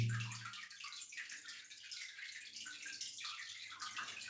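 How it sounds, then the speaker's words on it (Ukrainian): Water pours and seeps steadily into a flooded cellar, a continuous close trickling splash with soft gurgling surges. "Настільки швидко пробиває вода."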